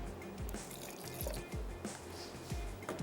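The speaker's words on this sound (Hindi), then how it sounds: "थोड़ा सा मैं इसमें दूध और ऐड कर देती हूँ" Milk being poured into a cooking pot while making white beef pulao, a soft, close liquid trickle and dripping with small splashes that recur every half second or so throughout.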